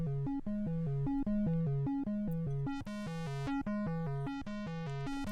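Music track for a film score run through a filter effect, a steady pulsing sequence of repeated synthetic tones in a regular rhythm, continuous and even in level, with no voices.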